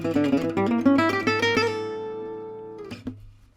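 An acoustic guitar plays the first half of a lick in gypsy jazz style, a quick run of clear picked notes that ends on a ringing, sustained tone fading out, with a couple of late soft plucks.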